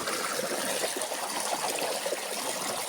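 Water rushes steadily at Tugunan Falls, a broad continuous hiss of flowing and splashing water, close and even throughout with no voices.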